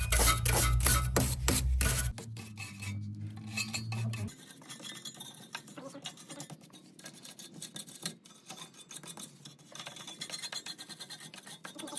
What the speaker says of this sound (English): We are gonna brush this out since we're in here because there is some dirt in here.